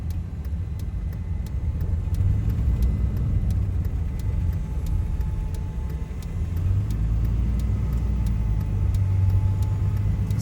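A CASE 9240 combine harvester drives along a road and over a narrow bridge, giving a continuous low engine rumble that swells and eases at close range, with no talk.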